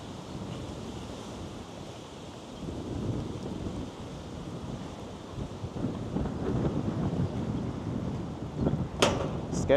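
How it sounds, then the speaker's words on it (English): Outdoor wind on a Manhattan or Queens street in New York City, a steady broadband roar with gusts that buffet the microphone, growing stronger toward the end, with a sharp clatter near the close. "It's getting kind of windy."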